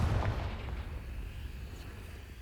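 A Confringo spell blast in the video game Hogwarts Legacy, one deep booming burst that rumbles and slowly fades over a couple of seconds, heard alone.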